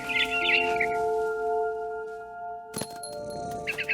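A barn swallow in the game What Remains of Edith Finch chirps in quick bright bursts at the start and again at the end, over sustained musical tones, with a sharp crack in between.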